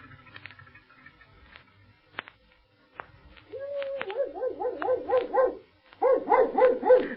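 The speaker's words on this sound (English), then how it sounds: "this is sure a swell dog of yours, Dawa." A dog named Campo in an old radio drama, first faint sniffs and scratches, then a run of rhythmic whimpering yelps and short barks, close and growing louder.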